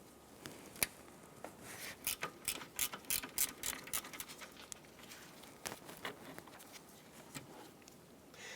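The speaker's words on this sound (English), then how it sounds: "Using a 10mm socket, go ahead and remove the terminal." A 10mm socket ratchet loosening the battery terminal on a 2010-2016 Cadillac SRX, with quick bursts of faint clicking pawl ratchet strokes in an irregular rhythm, close and fairly quiet.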